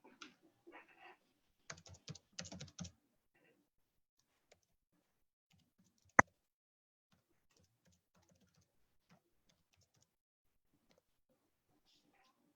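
An email address and phone number are typed on a computer keyboard in short, faint bursts of clicking, followed by one sharp click and near silence.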